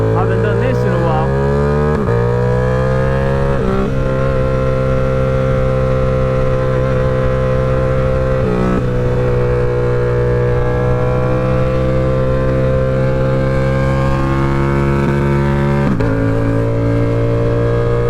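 A Yamaha R7 motorcycle ridden at night in light fog, its engine a loud, steady drone with harmonics that shift with a few gear changes and throttle dips, continuous and close throughout.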